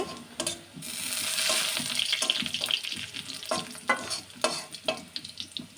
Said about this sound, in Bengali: পেঁয়াজের কালারটা বাদামি কালার না হওয়া পর্যন্ত আমি পেঁয়াজটা ভাজতে থাকবো